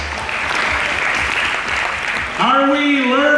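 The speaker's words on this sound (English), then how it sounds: "So can we give them a round of applause" Audience applause fills a hall at a Kangen business event in Dubai, a steady wash of clapping that continues loudly before a voice begins speaking over it near the end.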